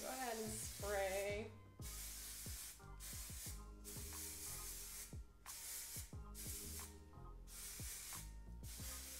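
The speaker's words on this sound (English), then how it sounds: "I'm gonna go ahead and spray" Repeated bursts of hairspray hiss in short pulses, close to the microphone, over a busy background of low tones and clatter, during haircut styling.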